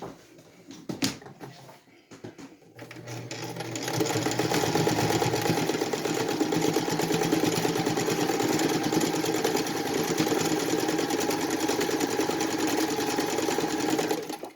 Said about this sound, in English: on the sewing machine you're going to put the foot a little bit in front of the cord